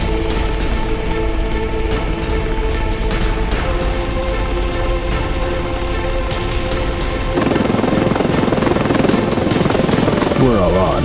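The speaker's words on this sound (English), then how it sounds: "Where's that damn helo?" A helicopter in the video game Masters of War comes in to land with a loud, constant rotor drone and whine. Voices talk over it, and the engine roar grows heavier near the end.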